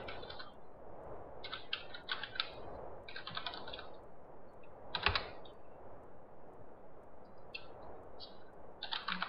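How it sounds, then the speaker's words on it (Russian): Fingers typing a password and email on a computer keyboard, quick bursts of close clicking keystrokes separated by short pauses, with no talking. "Пишем свой пароль. Email свой."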